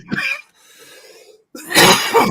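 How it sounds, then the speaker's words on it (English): A single close cough, sharp and loud, then a short pause and another harsher cough burst. "Excuse me, I'm coughing."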